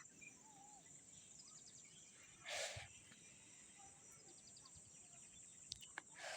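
Evening forest in Konkan during the monsoon, with a steady high cricket and insect drone and faint scattered bird chirps, one brief louder rustle partway through.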